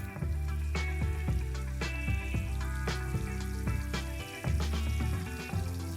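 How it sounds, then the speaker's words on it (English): Sliced onion fries in hot ghee with a steady crackling sizzle, broken by clinks and scrapes of stirring in the pan, with no voices. "Let's fry the sliced onion over here that I have."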